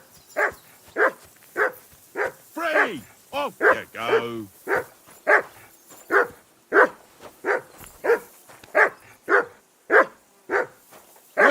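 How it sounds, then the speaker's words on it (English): A dog in the medieval game Kingdom Come Deliverance II barks in a long, regular string of sharp, evenly spaced barks, close and persistent, with a voice speaking briefly over the middle. "A dog barking is actually driving me up the effing wall."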